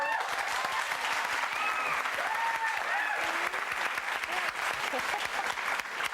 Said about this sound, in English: let's have an applause for...